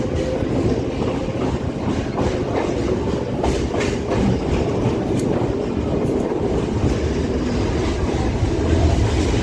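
A Kolkata local train on the Majerhat to Dum Dum circular line runs steadily, a loud continuous rumble with rhythmic wheel clatter heard from inside the carriage.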